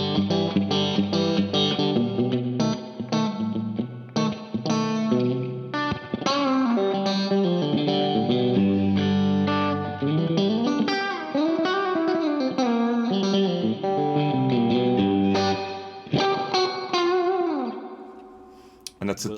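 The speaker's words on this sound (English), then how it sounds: "It's a classic tube amp spring reverb, bouncy and full of vintage twang." Electric guitar played through a Crazy Tube Circuits Mirage pedal set to a classic tube-amp spring reverb, loud picked notes and chords with bouncy, twangy decay and swelling sustained tails, continuous for about twenty seconds with no talking.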